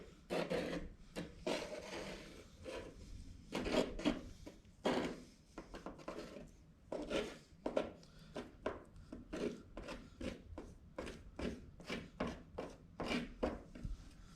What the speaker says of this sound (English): So I'm trying to go level to this floor over here, so I'm scraping it sideways.